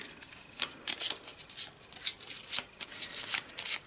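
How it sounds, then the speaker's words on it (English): Deck of board game cards for Eldritch Horror being shuffled at close range, a rapid run of crisp riffling and rubbing flutters, loud and alone. "Let's give it a shuffle"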